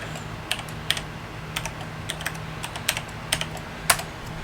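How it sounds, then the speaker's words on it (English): Clicky keystrokes on a mechanical computer keyboard, a few separate presses and short bursts spread unevenly over a low steady hum, close and fairly quiet, with no voices. "Something about like a mechanical keyboard"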